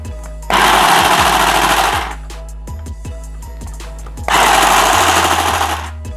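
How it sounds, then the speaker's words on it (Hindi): A toy sewing machine stitches in two loud, rapid mechanical buzzing bursts of about one and a half seconds each, separated by a quieter stretch of small clicks and clunks. "ये इस तरह से थोड़ी बहुत हल्की फुल्की सिलाई करती है।"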